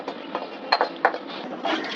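A spoon stirs spices and meat in a large biryani pot, giving scraping swishes and a few sharp metallic clinks at an irregular rhythm, close and moderately loud with no talking.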